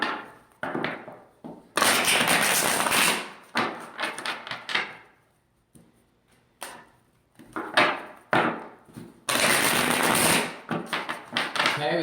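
A deck of tarot cards is shuffled by hand, giving two long, loud bursts of rapid riffling. Between them come shorter card slaps and soft handling taps, with brief quiet gaps.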